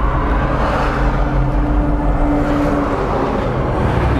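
A damaged Mercedes-Benz Sprinter minibus drives along a road, its engine and tyres making a steady, even drone with no let-up and no voices.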